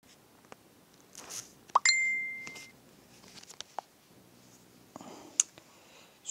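A Facebook Messenger notification pops up as a short bright plop-like chime, with a second faint ding later, among soft clicks and quiet background shuffling.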